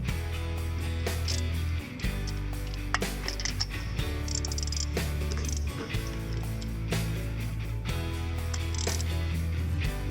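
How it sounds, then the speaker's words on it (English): Clicking and clattering of a 1/4-inch ratchet with an extension and a 5/8 deep socket working a spark plug loose on a 2000 Toyota Corolla, close, with a low hum underneath. "you need with a 5/8 1/4 inch deep socket to remove the spark plug"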